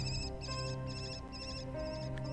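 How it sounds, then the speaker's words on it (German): Warbling electronic telephone ring from the Enigmatis hidden-object game, with bursts repeating about every half second in a steady pattern, loud and alone with no talking. "Das klingt ein bisschen wie ein kaputtes Telefon."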